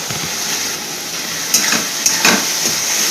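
Spice paste fries in a pan as it is stirred, making a constant close sizzle broken by a few sharp scraping clinks of a utensil against the metal.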